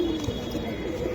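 Giribaz pigeons kept by a seller coo close by in a soft, low, continuous warble, with no talking over them.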